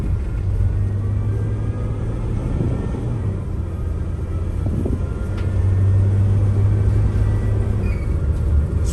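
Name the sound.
Sprinter van driving on the street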